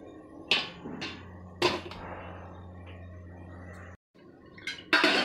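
A metal idli plate holding Kanchipuram idli batter is set into an idli cooker with a few sharp metallic clanks and clinks at irregular intervals, then a short silence and a final cluster of clatter.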